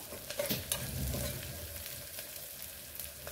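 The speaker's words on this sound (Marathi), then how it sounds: "आलं लसूणची पेस्ट चांगली मिक्स करून परतून घेऊया" Ginger-garlic paste sautéing in a pan for a brinjal, green pea and potato curry: a soft, steady sizzle with a few scraping stirs near the start, close and fairly quiet, with no voices.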